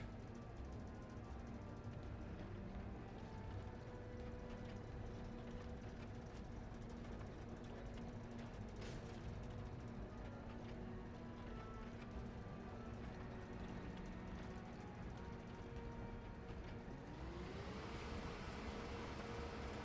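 An air purification unit sucks up Mako gas in the video game Final Fantasy VII Rebirth, a dense continuous mechanical rumble and whir with faint ratcheting textures, steady and loud, ending in a rising pitch sweep near the end.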